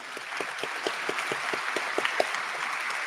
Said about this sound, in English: let's give all of our Warrior Heart Award recipients a nice big round of applause